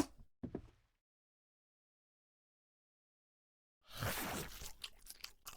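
Noisy, crunchy chewing from a character in the horror video game Akai Onna, a short burst at the start, then silence, then a loud dense stretch of wet crunching and smacking near the end, heard alone.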